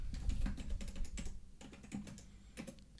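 Rapid, uneven key clicks from a computer keyboard, close and fairly quiet, in bursts with no talking.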